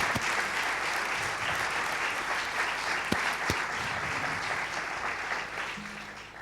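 An audience applauds to welcome Susana Huertas, general secretary of UGT Madrid, at the Casa del Pueblo of UGT Madrid, steady sustained clapping from a roomful of people that fades slightly at the end.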